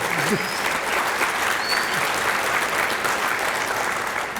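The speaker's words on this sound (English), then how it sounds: "I want to hear some clapping hands in here this evening." A large audience at the Kansas Sports Hall of Fame 2023 ceremony claps loudly and continuously, a thick wash of applause with faint voices mixed in underneath.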